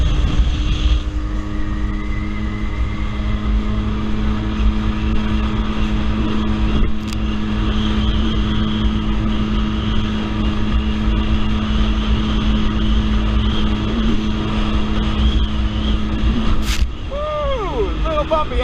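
A Yamaha WaveRunner personal watercraft engine drones steadily on bumpy water with wind buffeting, the throttle opening near the end into a rising, revving surge.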